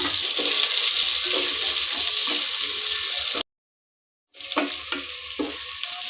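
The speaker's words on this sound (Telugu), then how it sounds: "బాగా ఫ్రై అయిన తర్వాత ఉల్లిగడ్డ కూడా వేసేసుకున్నాం." Green chillies and onion frying in a pan for coconut rice, a steady close sizzle with stirring scrapes, cut by a second of silence before the frying resumes.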